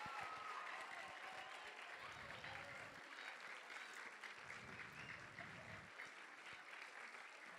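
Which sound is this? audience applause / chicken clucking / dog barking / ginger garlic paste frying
audience applause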